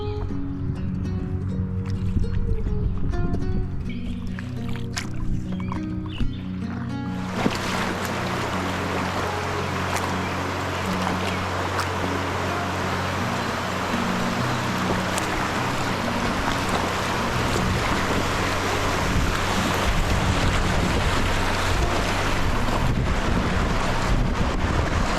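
Whitewater rapids roaring steadily around a kayak, a loud broadband rush of churning water and wind buffeting the microphone, quieter for the first few seconds then full and constant to the end.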